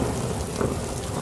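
Steady rain and rumbling thunder sweep over a cartoon forest, a dense continuous wash of noise with a faint swell near the middle and no voices.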